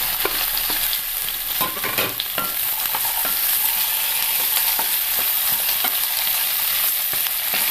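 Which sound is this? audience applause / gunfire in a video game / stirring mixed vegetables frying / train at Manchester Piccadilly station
stirring mixed vegetables frying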